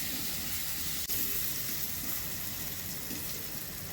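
Pumpkin pieces frying in a pan give a steady, even sizzle and hiss, close and constant, with one brief tap partway through.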